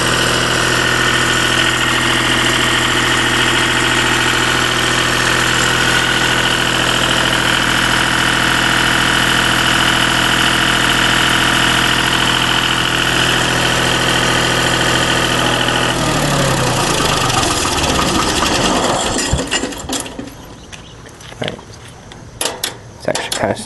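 A Deutz diesel generator set idles loudly with a constant hum, then cuts out near the end after a shutdown lever is used, leaving clanks and handling noises.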